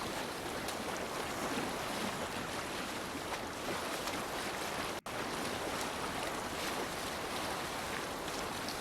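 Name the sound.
boat on a river in the video game Assassin's Creed Valhalla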